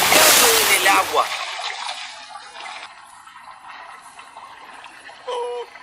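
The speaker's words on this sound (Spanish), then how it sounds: "Con un estruendo, Thomas aterrizó saltando en el agua." A toy Thomas the Tank Engine train crashes into a flooded tunnel with a loud, bursting splash that quickly settles into softer trickling water, with a brief watery swell near the end.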